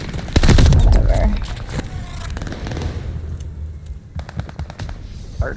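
Rapid gunfire bursts from the Call of Duty Vanguard video game, loud at first and then scattered, with a player talking over the shots.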